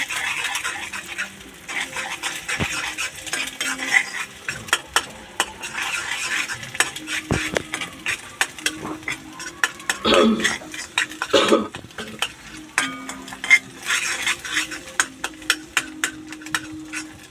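Malabar spinach seeds stir-fried in a pan, loud close scraping and clattering of a metal spatula against the pan in busy irregular strokes over a low sizzle.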